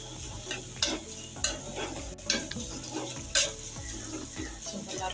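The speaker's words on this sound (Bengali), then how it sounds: "আমি এখানে কিছু পেঁয়াজ পেরেস্তা করে নেব এটা রান্নার শেষে ব্যবহার করব পেস্টটা দিয়ে আমি বেরেস্তা করে নিচ্ছি" Onion paste frying into beresta in a pan, a soft steady sizzle broken by repeated scraping stirs and a few clinks of utensil against the pan, close and fairly quiet.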